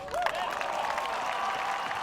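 Home crowd cheering and applauding at the final round of a women's European Open disc golf event, a steady, fairly distant wash of claps and shouts with no break.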